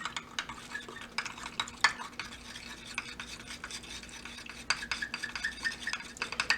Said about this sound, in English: So I have to stir pretty vigorously here.